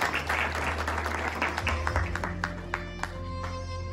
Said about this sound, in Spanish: Un fuerte aplauso, el señor Santiago.